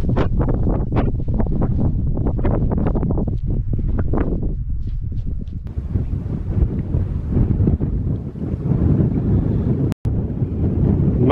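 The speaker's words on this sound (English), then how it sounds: "It's a bit windy." Wind gusting across an open, pathless mountainside with puddles and fast-moving clouds, roaring steadily and buffeting the microphone throughout, with rustling swells and no talk.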